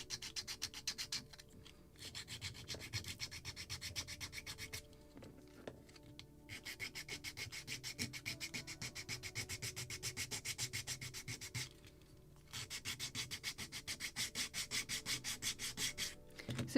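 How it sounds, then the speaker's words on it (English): Steady scratchy rubbing of a small sanding block on a wooden hull frame of a Muscongus Bay lobster smack model kit, in long continuous strokes with short pauses between passes, close and fairly quiet, no talking. "I will use my small sand block for it, because I have to sand it."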